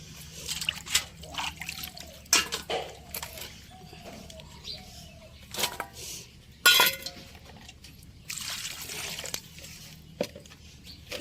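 Dried shutki fish is washed in water in a container, with close, quiet splashes, trickles and drips interspersed with occasional clinks of a vessel, in irregular bursts.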